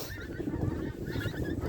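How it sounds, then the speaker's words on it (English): Several geese honk overhead in flight as they pass above a rural walk along Scotsburn Road, the calls faint and distant over a steady background, with no one speaking. "if you can see them, the geese up there."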